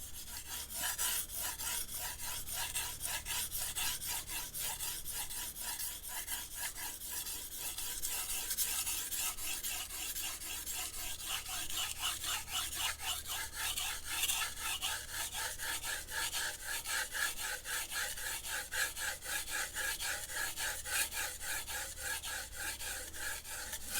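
A knife blade is drawn repeatedly over sandpaper, a steady run of gritty rasping strokes in close, even rhythm that continues without pause.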